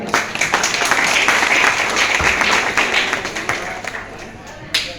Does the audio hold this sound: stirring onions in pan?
no